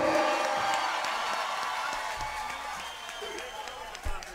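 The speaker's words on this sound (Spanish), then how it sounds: "Más fuerte el aplauso para Silvio." A crowd at a live Silvio Mora show claps louder on request, a dense steady roar of applause with a few whoops that slowly fades toward the end.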